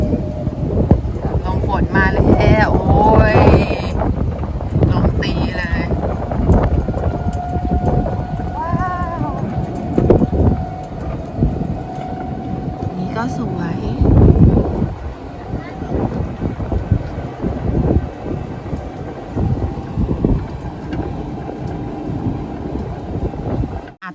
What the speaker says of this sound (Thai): ลมฝน